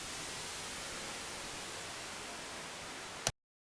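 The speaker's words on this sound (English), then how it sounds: "So it turns the white noise into this." Steady broadband hiss with the lows thinned out, running evenly for about three seconds before cutting off abruptly to silence.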